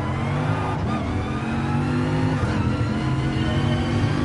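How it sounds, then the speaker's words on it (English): Racing car engine in Gran Turismo Sport, running on racing tires, revs loud and steady throughout, a continuous close drone with shifting pitch and no talk over it. "Sounds like a racing car."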